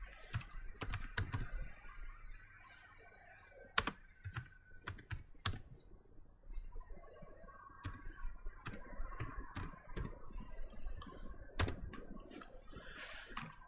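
Fingers type text into a word processor on a computer keyboard: irregular bursts of crisp, close keystrokes with short pauses between runs, heard alone without speech.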